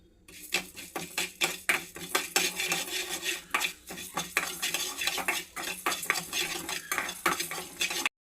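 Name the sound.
frying coriander seeds and fenugreek in a pan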